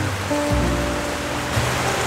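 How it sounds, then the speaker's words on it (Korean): Steady heavy rain hisses and patters on a surface nearby at a campsite, a dense unbroken wash of drops. "빗소리가 참 좋네요"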